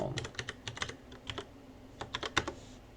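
Rapid, irregular clicking of keys on a computer keyboard, close and crisp, in two short flurries separated by a brief pause, with no voice.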